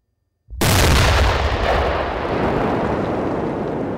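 Old explosive ordnance is detonated at a disposal range: a single loud explosive boom hits after half a second of silence, then a long rumbling roar that stays heavy without dying away.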